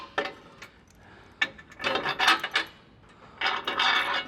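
Bolts being worked free from the cross member of a 2019+ RAM 1500 truck with a 15mm socket, giving several short metallic scrapes and rasping rubs in separate bursts, close by and fairly quiet, with no talking.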